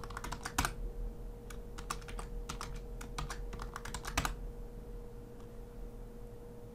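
A computer keyboard is used to type a password, with quick close bursts of keystrokes for about four seconds, then quiet.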